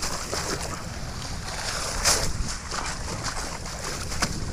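A strong water current rushes steadily and loudly with a dense, unbroken roar, briefly swelling into a sharper splash midway.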